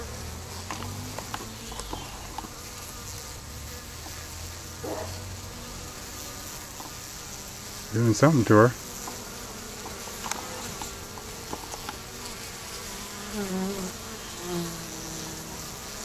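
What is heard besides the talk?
honeybees buzzing around a balled queen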